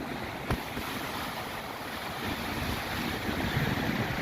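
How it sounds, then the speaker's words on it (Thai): Gentle morning sea waves roll onto the shore at Phayun beach in Ban Chang, Rayong, a soft continuous wash with wind buffeting the microphone and a brief knock near the start. "คลื่นเอื่อยๆเข้ามาฝั่งเป็นระยะระยะ"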